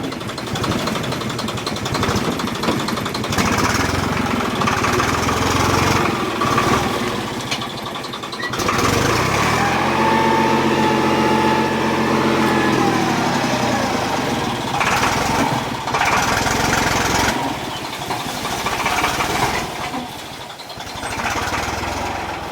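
A small vehicle engine runs steadily at low RPM, revving up and down with a buzzy drone and tending to stall, close and loud throughout.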